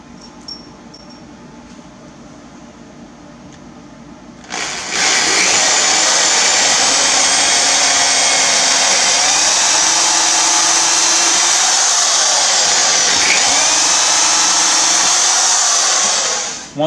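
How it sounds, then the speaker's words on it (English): A steady, loud motorized whine starts a few seconds in and runs continuously as a power drill with a 7/32 bit bores a hole into a wooden wall stud, with no voices. "So now I've got to drill a hole."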